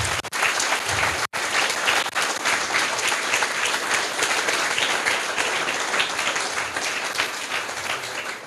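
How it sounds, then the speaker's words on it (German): A hall full of people applauds the organizing team at the opening welcome of a youth hackathon in Cologne, with loud, dense, sustained clapping that carries on steadily with only a brief dip near the start. "die einen ganz herzlichen Applaus verdient hat."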